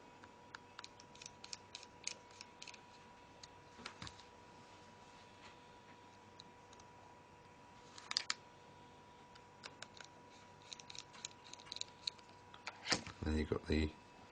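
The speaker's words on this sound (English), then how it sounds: "And then the skinny screws go in the centre" A small screwdriver drives tiny screws into a Nokia E7 phone during a screen repair, making faint scattered ticks and quick bursts of clicking against a quiet background, with someone talking at times.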